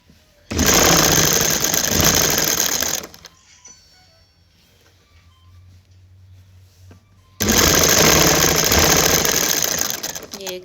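A sewing machine stitches the side seam of a kurta in two loud, fast, whirring runs, with a quieter pause between them where faint handling noises and a low hum are heard.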